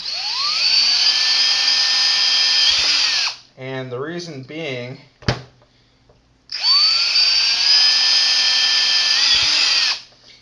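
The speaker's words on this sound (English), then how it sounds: "drill a bunch more holes into this piece of PVC" A loud, high-pitched power drill whines for a few seconds drilling holes in PVC pipe, stops while someone speaks briefly, then whines again at close range.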